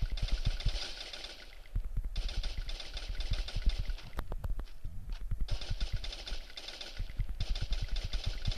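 Bursts of rapid gunfire in a game, volleys of sharp cracks separated by short lulls over a low engine-like rumble.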